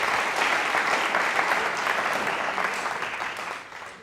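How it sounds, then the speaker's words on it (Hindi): Loud, dense applause from a school quiz show audience at Mahaveer Digambar Jain School, a thick wash of clapping close and sustained before fading slightly toward the end. "आप जोरदार तालियां बजनी चाहिए।"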